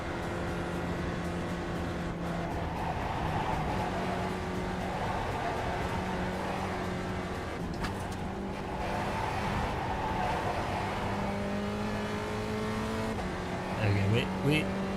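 Race car engine in a sim racing video game, a steady droning whine with shifting pitch that runs throughout, rising and falling as the car speeds up, with a voice talking over it.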